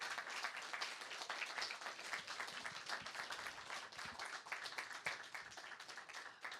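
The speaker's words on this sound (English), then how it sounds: "if we could please give a quick round of applause and a big thank you to David Lonsdale" An audience at an event gives a steady round of applause, dense overlapping hand claps heard at a moderate distance and sustained evenly throughout with no talk over it.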